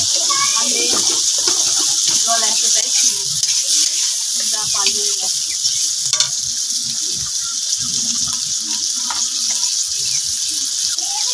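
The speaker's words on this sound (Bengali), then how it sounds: "তো দেখো ভাজা চলছে" Chicken mince frying in a pan gives a loud, constant sizzling hiss, with occasional clanks of stirring and people talking over it.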